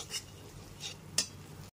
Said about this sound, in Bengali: বেসনটা দিয়েও খুব ভালো মতো মিশিয়ে নিতে হবে।